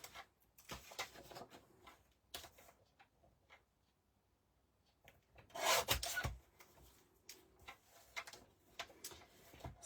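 Dry, scattered rubbing and rasping as a board is trimmed for a handmade book, quiet and close, with one louder scraping burst midway and no talking.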